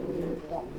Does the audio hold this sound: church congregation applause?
no